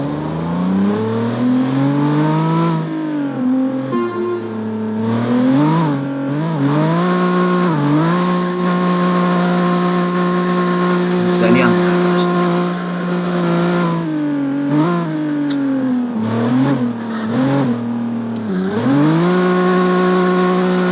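Tuned Mazda MX-5 with a body kit revving and drifting in CarX Drift Racing, its engine note climbing and falling continuously in loud, sustained sweeps with brief lifts between pulls, alone without talk.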